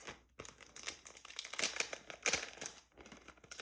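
A paper envelope is opened at close range, giving crisp crinkling and tearing rustles in quick irregular bursts with no one talking.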